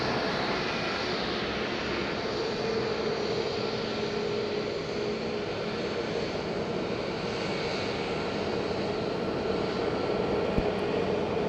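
An EasyJet airliner arriving from Lisbon approaches Madeira airport, its engines a steady, broad roar that holds at a constant level throughout with no voices.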